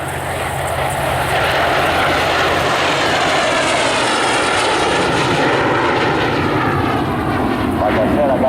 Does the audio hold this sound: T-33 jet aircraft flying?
yes